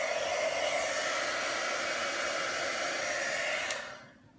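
A heat gun blows a steady, loud whooshing roar close by while melting embossing powder on a card, running evenly for several seconds before switching off and fading out.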